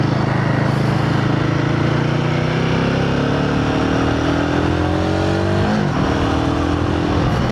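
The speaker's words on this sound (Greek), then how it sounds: "δεν πατάω καν full γκάζι, παιδιά, και το μηχανάκι τραβάει" A Royal Enfield Guerrilla 450 motorcycle accelerates hard, its engine note climbing steadily in pitch, close and loud, with a brief break near the end like a gear shift before the rising drone resumes.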